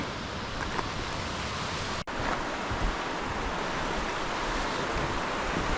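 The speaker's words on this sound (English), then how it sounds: "Look, you have a nice small river." A small, fresh mountain river on a Swiss hike flows with a steady, broad rushing wash, loud and unbroken apart from one brief dip.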